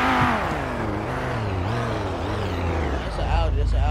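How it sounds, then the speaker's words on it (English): An Audi's engine revs and whirs with a wavering, rising pitch, fairly close and continuous, partly under people talking nearby, swelling louder toward the end. "That's an Audi."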